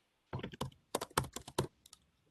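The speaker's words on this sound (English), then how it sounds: "I'm typing." Typing on a computer keyboard in a quiet room during a transportation subcommittee meeting, a quick burst of clustered key clicks and taps in a broken rhythm, close and alone.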